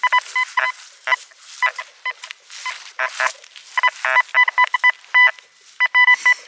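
A handheld metal detector sweeps a lake beach strewn with bottle caps and litter, giving rapid repeated electronic beeps and warbling tones in irregular bursts, one signal after another.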